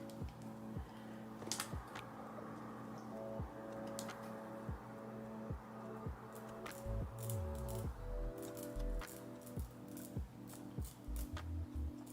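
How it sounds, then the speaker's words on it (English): Small scissors snip through the lace edge of a mushroom blonde balayage wig during an install, giving quiet, irregular clicks over a steady low background hum. "And I do like to cut my lace a little bit on the messy side"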